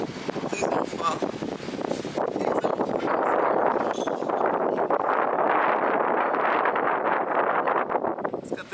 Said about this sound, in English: Let's go back to the less windy side.